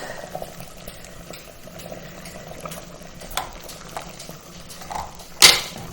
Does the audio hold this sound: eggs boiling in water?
yes